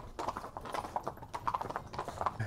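Nonius horses clop their hooves in a steady, busy rhythm of many close hoofbeats, moderately loud, with no talk over them.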